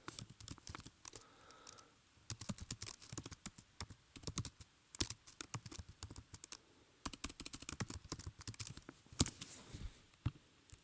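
Keystrokes on a computer keyboard while entering figures into a budget spreadsheet, quick irregular clacking in bursts with short pauses, close and quiet, with no talking.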